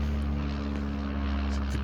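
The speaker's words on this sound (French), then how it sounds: "Et il y a pas mal de petits avions là. Je pense qu'il y a un aéroport qui est pas très loin." Small propeller airplanes fly near an airport by a lagoon, giving a steady, loud, droning engine hum with a low tonal buzz that stays constant throughout.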